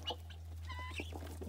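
Farm chickens cluck softly and close by in a few quick calls over a low steady hum, with no talking.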